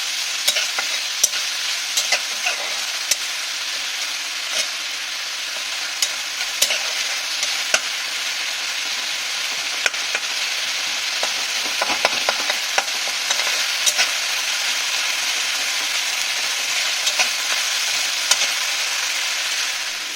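Continuous close sizzle of spices sautéing in a pan for a prawn and papaya dish, punctuated by sharp clicks and scrapes of stirring, no voices.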